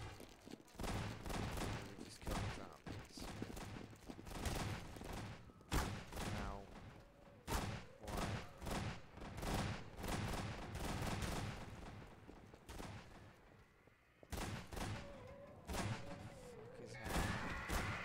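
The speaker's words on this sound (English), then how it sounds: "Stop shooting." Repeated gunfire in a game crackles through the whole stretch, dense bursts of loud shots and thuds coming in rapid clusters with brief pauses between volleys.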